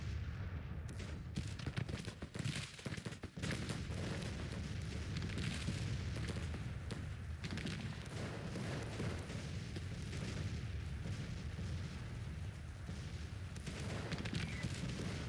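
A Grand Tactician Civil War video game battle roars with a dense, unbroken wash of musket gunfire and booming artillery. The noise stays loud and steady, with a few crackling bursts near the start.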